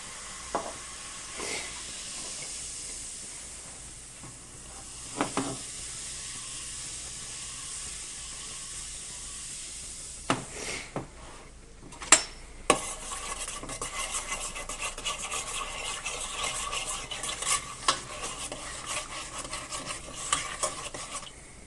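White vinegar mixed with baking soda in a container, a soft steady fizzing hiss broken by a few sharp clinks of stirring, growing busier and more crackly toward the end, with no talk.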